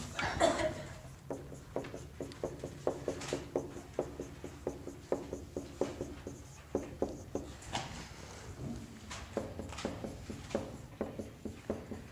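Chalk or marker strokes tapping and scraping across a classroom board as a math problem is written out, a steady series of short, close strokes with brief pauses and no talking.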